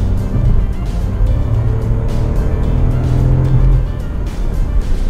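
A Seat Arona car accelerates on the road. A steady engine and road roar sounds from inside the cabin, loud and continuous, with no talking.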